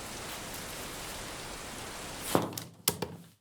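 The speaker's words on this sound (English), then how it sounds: "oh no, the rain started." Heavy rain begins to fall, a dense steady wash of patter that breaks off into a few sharp knocks and drops near the end.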